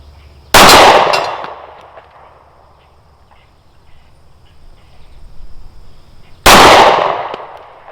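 Two sharp, loud gunshots from a Bersa BP9cc 9mm pistol crack at an outdoor range, spaced about six seconds apart, each ringing out briefly with quiet ambience between.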